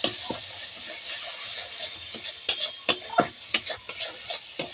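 Garam masala, meat masala and chili powder stirred into hot oil in a pan while cooking Hyderabadi chicken, with a steady low sizzle and a series of sharp spoon scrapes and taps against the pan, close and fairly quiet.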